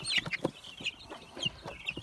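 Several roosters cluck close by in short, uneven bursts, overlapping with one another across the whole clip.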